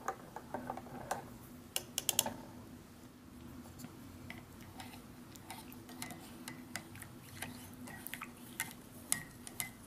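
A spoon stirs a cappuccino drink inside a Canadian IMP ration pouch: faint, close clicks and light scraping taps in an uneven rhythm, with a few sharper clinks over a quiet background hum.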